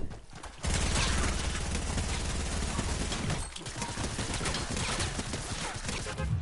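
Submachine gun fire sprayed in a video game match, dense and continuous rattling bursts at close range, loud throughout with a brief dip midway, no talk over it.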